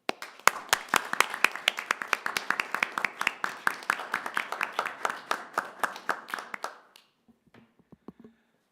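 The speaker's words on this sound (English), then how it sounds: "We give him an applause." A small group at a school interlocal board meeting applauds, with crisp overlapping claps for about seven seconds before dying away, leaving a few faint sounds.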